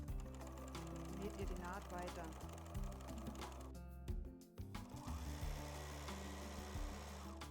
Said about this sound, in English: only then continue sewing the seam